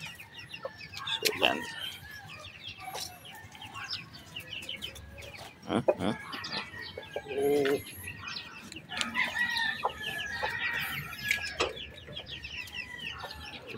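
Rooster and hens on a backyard poultry setting clucking and calling repeatedly, busy overlapping bursts near and at mid distance, with someone speaking briefly among them.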